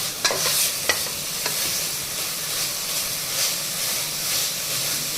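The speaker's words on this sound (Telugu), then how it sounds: "మాడకుండా మళ్ళీ కలుపుతున్నాను" Bottle gourd payasam with milk, poha and vermicelli being stirred in a pot, a steady low sizzle and hiss of simmering with a few soft scraping clinks near the start, continuous and close.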